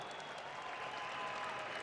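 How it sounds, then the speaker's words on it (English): A crowd applauds an MMA winner at an M-1 Challenge event, steady dense clapping sustained throughout at an even, fairly loud level. "A well-deserved round of applause for Arman Ashimov from Kazakhstan."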